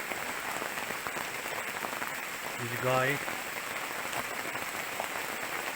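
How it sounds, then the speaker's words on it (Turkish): Steady rain hisses and patters across a surface throughout, falling on a sheltered forest spot beside a stream bank, with a person speaking briefly over it partway through. "Yağmur yağıyor ama"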